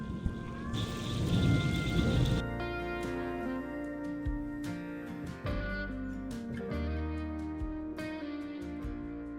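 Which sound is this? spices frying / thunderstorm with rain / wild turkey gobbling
thunderstorm with rain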